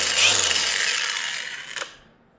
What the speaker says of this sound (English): Put the battery on, it's on, and then you click and it's on.